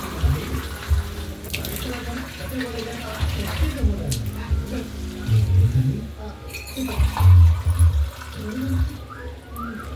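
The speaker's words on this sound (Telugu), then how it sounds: "గ్లాసున్నర వాటర్ వేస్తే సరిపోతుంది." Water is poured into a pressure cooker of ordinary rice for a simple vegetable pulao, splashing and gurgling in uneven bursts while a person talks over it.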